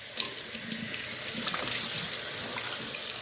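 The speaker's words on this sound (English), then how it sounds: "rinse my packaging before I throw it in the trash" Tap water pours steadily into a kitchen sink, rinsing out meat packaging, a constant close hiss with faint splashes and no talk.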